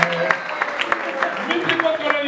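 Short round of clapping from a children's church audience during a gospel-sharing lesson, quick close claps at an uneven rhythm with speech running over them.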